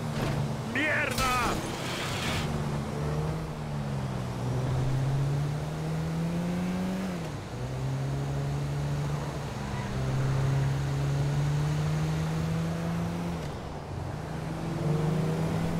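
A car engine hums and shifts pitch as it drives in Grand Theft Auto 5, steady and moderately close, with voices shouting over it.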